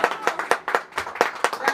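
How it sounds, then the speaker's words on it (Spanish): Small group at a birthday party with a youth mariachi band clapping for Elsa and Felipe, a few people giving sharp, somewhat rhythmic individual claps close by. "Un aplauso muy bonito para ellos"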